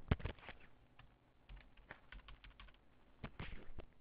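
Keys tapped on a computer keyboard while entering a search term into accounting software, a quiet, irregular run of close clicks with short pauses between bursts.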